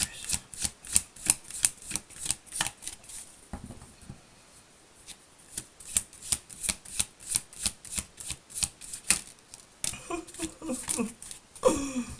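Tarot cards are shuffled in rapid riffling bursts, a dense run of crisp flicks and slaps, pausing briefly midway before resuming, with a card drawn and set down near the end.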